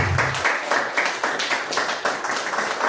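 A church congregation applauding during a service, a full steady clapping with rhythmic surges, heard alone without speech.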